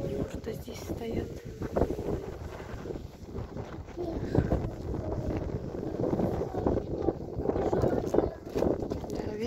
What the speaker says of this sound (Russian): Ветер дует прохладно.